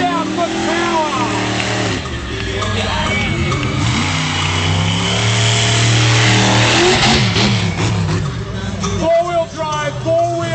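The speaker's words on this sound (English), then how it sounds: "put your foot down Sam and let's go! Check this out for power" Sampson, a 1,000-horsepower four-wheel-drive, four-wheel-steer monster truck at a 2010 Melbourne show, revs hard at full throttle with a loud, sustained roar that climbs and falls, while a voice talks over it.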